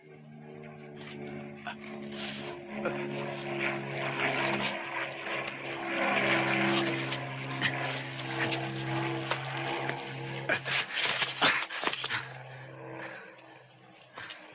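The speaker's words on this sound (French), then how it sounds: "L'avion, il est parti." An airplane flies away in a French crime and espionage comedy series, a sustained droning engine hum with a rushing, watery texture and scattered sharp clatters, fairly loud and steady for the whole stretch, with no speech.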